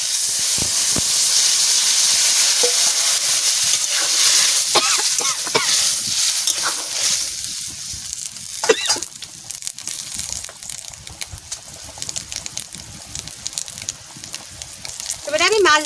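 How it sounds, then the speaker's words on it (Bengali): Vegetable curry is poured into fried spice paste in hot oil, setting off a strong hissing sizzle that gradually settles into a quieter bubbling crackle while someone speaks over it. "মশলাটা ভাজা ভাজা হয়ে গেছে, আমি তরকারি ঢেলে দিচ্ছি।"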